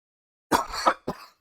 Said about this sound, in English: I did not mean to cough. I still have a little bit of a cough.